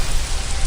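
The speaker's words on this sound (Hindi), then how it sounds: "अचानक मौसम का रुख बदल सा गया था और बेमौसमी तेज बारिश शुरू हो गई थी।" Heavy, unseasonal rain pours down hard with gusting wind, a dense continuous roar of water across the whole soundscape, loud and close with no voices.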